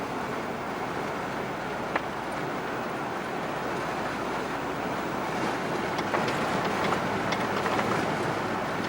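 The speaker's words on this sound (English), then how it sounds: "It's windy." Steady, loud wind roaring across the microphone without a break, a broad rushing noise with faint gusty flutters.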